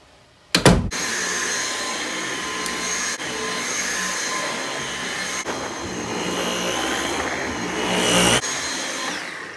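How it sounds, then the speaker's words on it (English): A vacuum cleaner starts with a sharp click and roars steadily at close range, its whine swelling slightly near the end before a brief knock. "I would have to bring in the vacuum cleaner"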